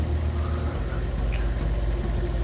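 Ford Ka idling with a blowing exhaust flexi pipe, giving a steady low rumble with a faint hissing chuff throughout, close by in a workshop and without speech.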